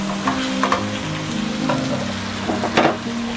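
Chicken pieces hitting hot oil with browned onions for a chicken biryani, a steady loud sizzle with scraping stirring strokes throughout, no voices.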